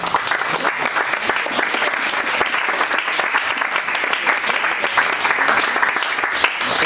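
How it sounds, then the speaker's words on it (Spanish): A church congregation applauds in dense, sustained clapping, loud and even throughout. "Denle un aplauso al Señor"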